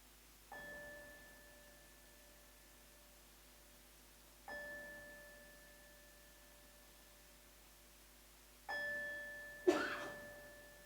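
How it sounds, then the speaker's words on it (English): A meditation bell struck three times at a Buddhist gathering, each quiet resonant ring spaced about four seconds apart and fading slowly, with a brief cough-like noise just after the last strike. "we can slowly come out of meditation when I ring the bell 3"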